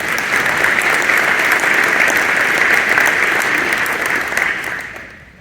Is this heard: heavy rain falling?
no